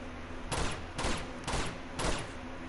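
Four evenly spaced gunshots from the Uncharted 2 video game thump out about half a second apart at moderate loudness over a steady background hum, with no voices.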